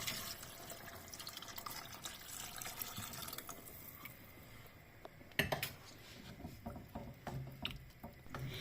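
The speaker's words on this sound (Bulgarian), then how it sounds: "Добавяме предварително прецедения бульон." Strained broth being poured into a soup pot of solyanka with meat, tomatoes, pickles and olives, a faint, quiet trickle and splash of liquid with a few sharper drips and clinks near the middle.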